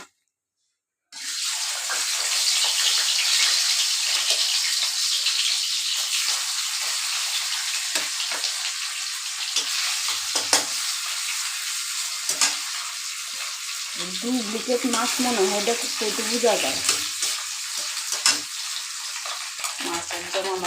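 Shingi fish frying hard in oil in a wok, a loud, steady sizzle that runs unbroken throughout, close by, with a faint voice briefly heard over it.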